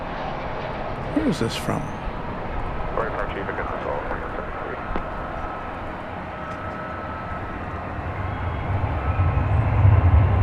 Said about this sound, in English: So 737-800 is American Flight 496. And that was from Guatemala City.